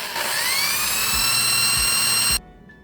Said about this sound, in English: Choose a very small drill bit, grab your favorite drill,